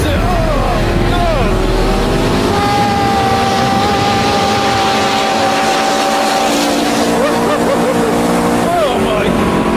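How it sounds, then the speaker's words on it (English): A car accelerates hard at full throttle on a record run, its engine rising in pitch through loud, close revs and gear changes, with excited voices talking over it. "So we can nail the throttle and then release."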